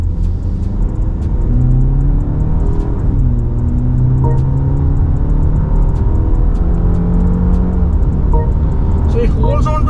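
A 2024 BMW 5 Series pulls hard in second gear in its default comfort mode, the engine note climbing in steady pitch sweeps with a constant road rumble underneath, close and loud from inside the cabin.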